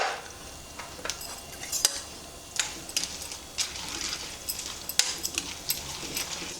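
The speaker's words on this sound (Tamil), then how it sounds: "பெருங்காயம் பொரிஞ்சு வந்துடுத்து" Asafoetida frying in hot oil in a pan, a faint continuous crackle and sizzle broken by frequent small clicks and taps from a spoon against the pan, close and fairly quiet.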